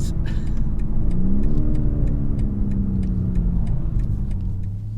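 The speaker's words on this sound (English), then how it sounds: "you hit that gas and you just accelerate" A 2019 BMW M850i xDrive accelerating hard, with a steady loud engine roar that rises in pitch under throttle and continues for several seconds, heard from inside the car with faint ticking in the background.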